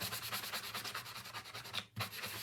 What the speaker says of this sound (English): I just sanded it, okay? I roughed it up, that's all. Just took the shine right off. Sanded it down.